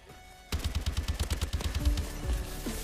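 Rapid bursts of gunfire from Call of Duty: Advanced Warfare erupt after a half-second of near silence and run steadily to the end, loud and close, with no talk.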